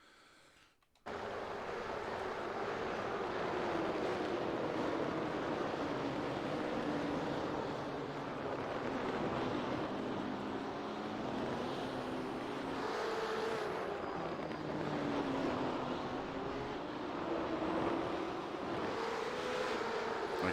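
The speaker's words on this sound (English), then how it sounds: "Turn down the engine car sounds a little bit." Steady video game engine drone of BMW M8 race cars at Tsukuba circuit, shifting pitch as they run continuously throughout, fairly loud with no talking.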